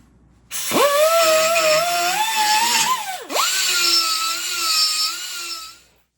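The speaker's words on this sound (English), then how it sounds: "I'm going to take a burr and I'm going to start trying to get this all dressed in here." A rotary burr grinds into a welded bike frame to dress out clearance, a loud sustained high whine that dips briefly mid-cut and resumes before spinning down.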